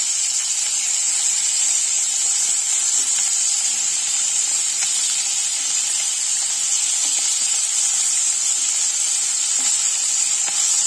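Small fish sizzling in mustard oil in a wok, a steady, dense hiss of frying that runs unbroken and fairly loud throughout, with no voices over it.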